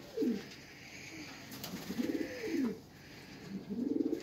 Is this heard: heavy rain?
no